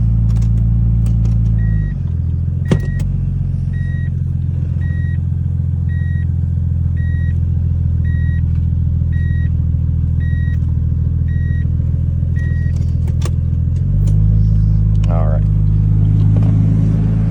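A Nissan Stagea sits idling on level ground after a transmission filter replacement. Its engine gives a steady low hum that dips briefly and then returns, with a repeating electronic chime beeping through the middle of the clip.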